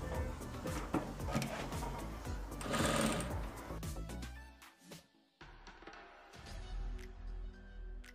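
Sewing machine stitching the folded hem of a dress facing for an off-shoulder cowl neck dress, a steady close whirring run with short pauses and restarts as the fabric is guided.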